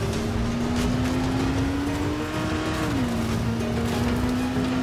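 A car in the Dying Light The Following video game skids with the handbrake pulled, a loud continuous tire squeal over a steady engine drone lasting several seconds, with no talking.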